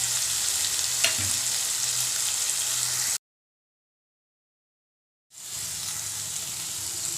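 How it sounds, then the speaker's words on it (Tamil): Tomatoes with sea salt fry in a pan, giving a loud, steady close sizzle with a light stir knock, cut off by about two seconds of complete silence before the sizzle resumes, with no voices. "தக்காளி வதங்கிறதுக்கு கடலுப்பு சேர்த்துக்கலாம் கடலுப்பு சேர்த்தா நல்லா வதங்கிடும்"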